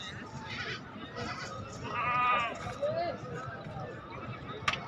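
At a goat and ram market for Eid sacrifice, goats bleat in short calls against a busy crowd murmur, with people talking nearby.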